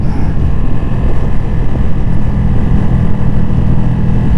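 A Ducati Streetfighter V2 motorcycle exhaust drones loudly and continuously while riding, a dense low roar with wind rush and no pauses.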